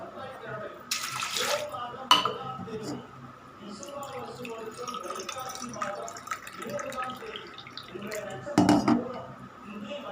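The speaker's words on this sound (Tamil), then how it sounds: "ஒரு ஆழாக்கு பருப்புக்கு நான் 2 கிளாஸ் தண்ணி ஊற்றுறேங்க." Water is poured from a glass over lentils in a cooking pot, about two glassfuls, a steady splashing trickle running under continuous talk, with a couple of louder sloshing bursts.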